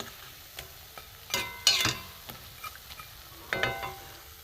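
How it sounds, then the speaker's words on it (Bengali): Bread slices frying in a pan, with a soft background sizzle broken by light scraping taps and a few louder turning scrapes of a spatula against the pan, close and intermittent, no voices. "পাউরুটিগুলো একটু লাল করে ভেজে নেব।"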